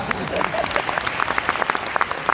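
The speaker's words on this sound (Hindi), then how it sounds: "आपके लीडर के लिए जोरदार ताली होनी चाहिए।" An audience in a large auditorium in Kolkata claps loudly and steadily, a dense burst of applause filling the hall.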